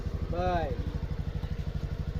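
A motorcycle engine runs steadily close by with a fast, even low throb from start to finish, while a voice speaks briefly over it near the beginning.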